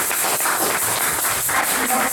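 A church congregation applauding together, a steady wash of clapping throughout with a faint murmur of voices underneath.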